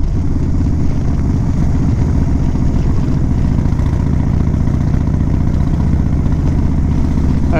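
A Dyna motorcycle engine drones steadily while riding in a motorcycle lane, a loud, constant rumble with wind noise and no clear change in pace.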